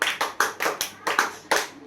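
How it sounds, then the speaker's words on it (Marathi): A small group of people claps in several short, uneven bursts, about seven sharp, close claps over roughly two seconds, with no talking over them. "बघू वाजवतात का टाळ्या"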